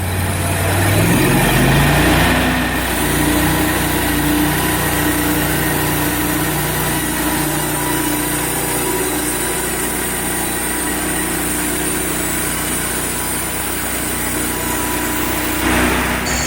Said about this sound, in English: Cannot believe how quiet that engine is.